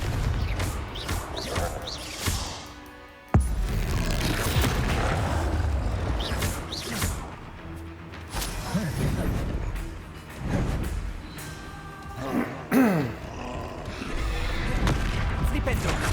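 Confringo spells in Hogwarts Legacy combat: a sharp burst opens a run of loud explosive booms and crackling impacts over a rumbling battle bed, with someone talking between the blasts.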